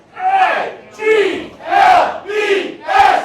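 Eagles fans at a brewery party chant the team's name letter by letter in five loud, rhythmic group shouts, each burst rising and falling with short gaps between.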